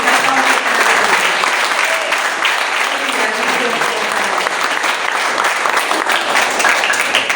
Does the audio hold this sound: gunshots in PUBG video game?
no